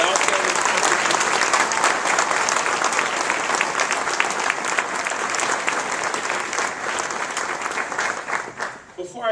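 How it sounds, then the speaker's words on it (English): At a NASA agency awards ceremony, the audience gives the honorees a long round of full, steady applause that holds strong for several seconds before tapering off at the end. "let's give all of our honorees another round of applause for the outstanding contribution"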